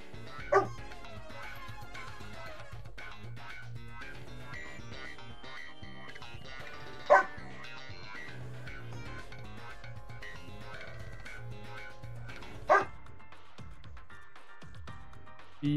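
A dog barks in the Pokemon Shield video game: three short, sharp yips spaced several seconds apart, rising above steady, quiet background game music.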